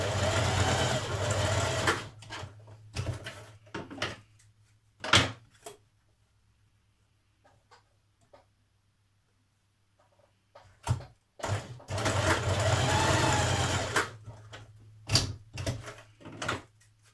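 A sewing machine stitches down both sides of a small folded fabric tab for a Burda 6240 summer dress, in two long steady runs at the start and end with short bursts and quiet handling between.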